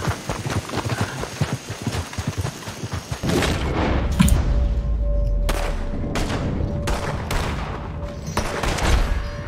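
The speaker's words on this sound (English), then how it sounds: "now I shot like fucking 9 shots and no one connected" Gunfire in Red Dead Redemption 2 Online: a burst of several sharp shots in the opening seconds, then booming reports and a run of separate loud cracks later, with hoofbeats and game ambience between them.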